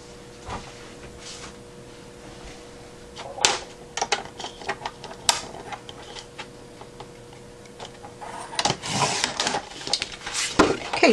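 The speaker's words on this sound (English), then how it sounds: "Just this little bit off is what I'll need to cut off with my cutting tool." A cutting tool slicing through a milk carton box for a craft score board, giving close, irregular scraping and snapping cuts in scattered bursts, heavier toward the end, with no talk.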